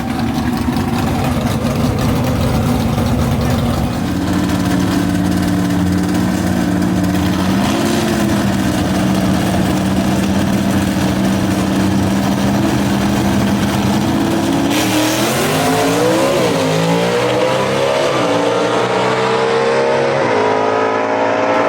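Superstock drag race cars at a dragway, engines droning loud and steady, then revving and climbing in pitch as they pull away down the strip, with no talk over them.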